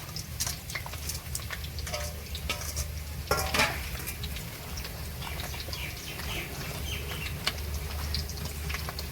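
Marinated mutton added to a pan of oil and onions for a village-style curry and stirred, with scraping spoon clatter and clinks over a steady sizzle, close by and continuous.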